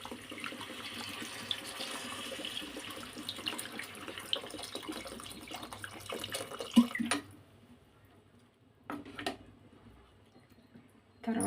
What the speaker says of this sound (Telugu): వాటర్ వేసుకుందామని సరిపడా.